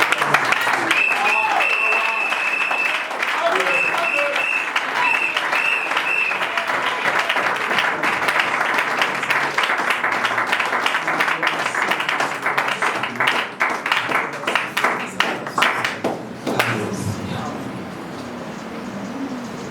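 A church congregation at a Christian worship service claps and applauds steadily for about sixteen seconds, a dense close wash of clapping with voices and singing mixed in, before it fades out.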